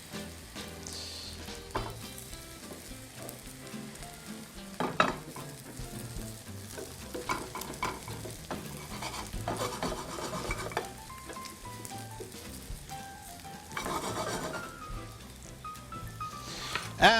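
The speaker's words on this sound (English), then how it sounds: "I'm gonna just use my spatula, kind of push everything to the side so the raw parts of the egg can get down there." Mushroom and vegetable frittata eggs sizzle in a pan while a spatula scrapes and pushes them aside, steady close frying punctuated by repeated scraping and clinks of utensil on metal.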